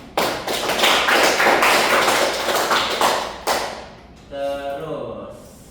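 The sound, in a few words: classroom applause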